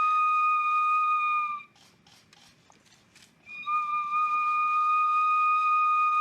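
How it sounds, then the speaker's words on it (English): A ceremonial whistle is blown during a ritual in Canada, giving a loud, steady shrill tone with harmonics that holds for about a second and a half, breaks off for a noisy gap, then sounds again and sustains to the end. "So here goes the whistle."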